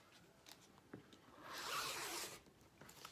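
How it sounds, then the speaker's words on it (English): Rotary cutter slicing fabric selvage off a quilt block, a single steady rasping cut that swells in the middle and fades, with faint scrapes before and after. "I'm going to cut that. That's going to cut off all my selvage."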